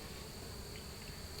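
A dense, steady buzz of bees at a horizontal hive, a continuous faint drone with no distinct breaks.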